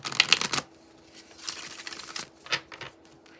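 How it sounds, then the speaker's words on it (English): A deck of cards gets shuffled in quick riffling bursts: a dense flutter at the start, then a few softer riffles and a last short burst, close and crisp in a quiet room without speech. "I'm going to shuffle as I go today."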